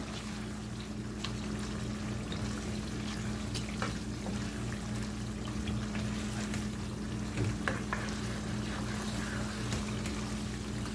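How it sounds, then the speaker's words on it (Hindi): Masala with mutton and tomato fries in a pot for aloo gosht shorba, a low continuous sizzle under a steady background hum, faint and without talk. "अब इस मसाले को हम अच्छी तरह से भून लेंगे।"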